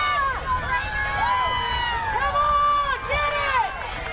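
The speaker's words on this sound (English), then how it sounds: "we have the crowd erupting, trying to push them through any pain they're feeling" A crowd cheers steadily at a track relay race during the event finals of a track meet, a continuous roar throughout with an announcer talking over it.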